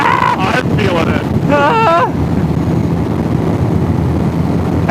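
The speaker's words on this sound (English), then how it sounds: "you weren't kidding about that wind" Strong wind buffets the microphone throughout, a loud, continuous roaring rumble, with voices exclaiming over it during the opening seconds.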